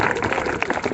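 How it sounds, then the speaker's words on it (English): An audience gives a round of applause for speakers at a public gathering, dense steady clapping heard up close and filling the whole moment. "let's have another round of applause for all of our speakers"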